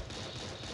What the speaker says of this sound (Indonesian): Terdengar ada suara pelor yang keluar